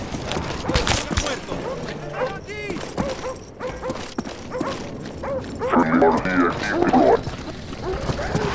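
Attack dogs in a video game bark and yelp in a chaotic, overlapping burst, mixed under game voices and gunfire-like thumps, growing denser near the end.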